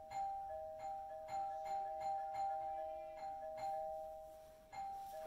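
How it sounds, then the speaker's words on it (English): A doorbell rings repeatedly in a home, a steady sustained electronic tone pulsing in a regular rhythm, moderately loud and alone without talking. "it was a good thing that the doorbell was ringing"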